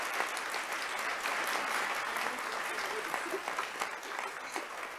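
Audience applause at an annual awards ceremony, a dense, steady wash of clapping from a sizable crowd that holds evenly for the full stretch without any voices breaking through.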